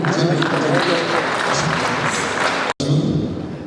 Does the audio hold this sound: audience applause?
yes